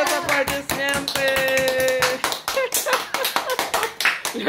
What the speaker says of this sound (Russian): О, молодец, аплодисменты.